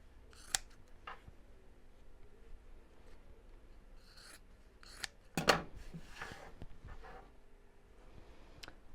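Scissors cutting fabric at a sewing table, a few quiet snips and crisp cuts with one louder, sharper cut near the middle, set against a faint room hush.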